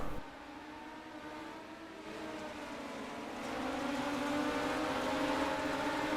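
Midget race cars circling a dirt oval, a steady engine drone with rising harmonic whine that swells gradually, continuous and somewhat distant, no talking.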